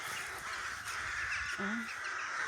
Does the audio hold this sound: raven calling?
yes